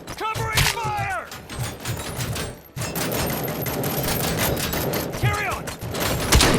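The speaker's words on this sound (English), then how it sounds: "Covering fire!" Gunfire in a RoboCop: Rogue City combat scene, dense bursts of rapid shots rattling almost continuously under shouted voices, with a brief drop before the firing resumes loud and sustained.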